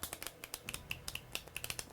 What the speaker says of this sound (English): then we've practiced riffling off the pack